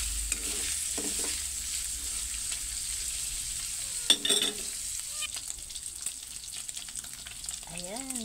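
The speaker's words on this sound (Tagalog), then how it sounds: "Gigisa ko ang aking sangkap guys para mabango." Garlic and onion frying in hot oil for a Filipino ginataang gulay, a soft continuous sizzle broken by occasional spatula scrapes and stirring clatter.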